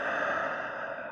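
A single long, steady exhale during a yoga sequence in triangle pose, close and breathy, with no talk over it.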